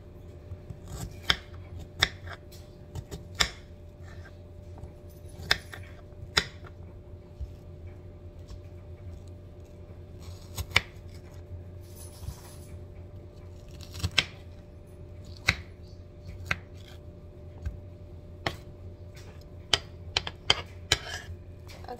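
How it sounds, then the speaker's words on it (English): A knife cuts onions for an Amish country casserole, dozens of sharp, irregular chops and taps on a board over a faint background hum, close and fairly quiet, with no talking. "I think everybody hates cutting onions."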